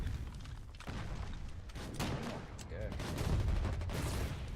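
Heavy artillery and gunfire in the war game Foxhole thump and boom in dense, rolling volleys, loud and continuous, with a brief spoken word over the barrage.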